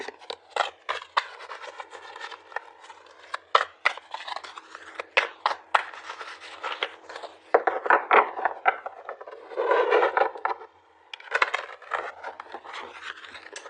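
A deck of tarot cards being shuffled by hand, with quick riffling and sliding bursts in uneven clusters, close and fairly loud, with brief pauses between shuffles.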